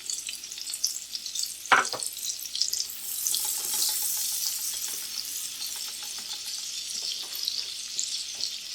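Butter melts in a pan with parsley and oregano, making a steady, close sizzle with a brief stirring clatter near the start and no talk.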